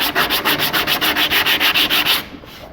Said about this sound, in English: If it's not working fast enough, maybe you need to switch to a heavier grade sandpaper or something